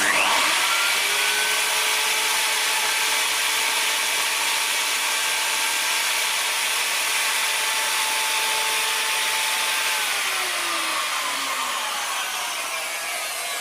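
Wood router running along the edge of a timber board, a loud, steady high-pitched whine with shifting cutting tones throughout, heard close and alone.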